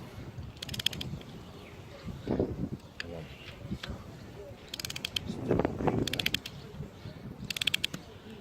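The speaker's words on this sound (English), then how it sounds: "Torque wrench" A torque wrench tightens bolts during an injector repair on an Audi 3.0 TDI, making repeated ratcheting clicks in short bursts with mechanical clatter between them, nearby and moderately loud.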